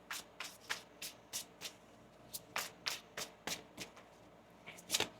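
A deck of tarot cards is shuffled by hand in a quick series of quiet, crisp riffling bursts in an uneven rhythm, close by with no talking.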